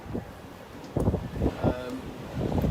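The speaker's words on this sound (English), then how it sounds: "it is really cold and windy" Cold, strong wind buffets the microphone outdoors at Llandudno, coming as low rumbling gusts that swell and ease, loudest toward the end, with no talk over it.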